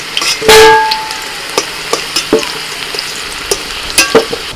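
Potatoes fry in a pan with a soft background sizzle, broken by a loud metallic scrape early on and then a string of sharp spatula knocks and clinks at uneven intervals, close by, with no one speaking.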